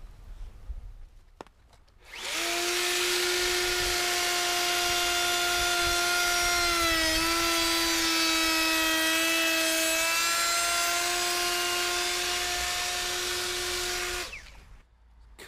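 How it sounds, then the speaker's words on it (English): A router cuts a tapered chamfer along a wooden post, starting with a sharp rise into a loud, steady high-pitched whine that holds for about twelve seconds, dips slightly midway, then winds down and stops. "Just start your router, go to it."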